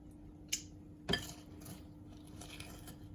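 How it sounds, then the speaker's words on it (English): Two sharp crunches about half a second apart, the second louder, as a crispy no-bake Rice Krispies cookie is bitten, followed by quieter crumbly rustling. "you hear that crunch?"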